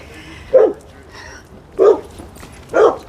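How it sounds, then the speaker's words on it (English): Dog barking from across a neighborhood street during a morning walk, three separate loud barks spaced roughly a second apart. "This other dog across the street has got all kinds of things to say about us walking."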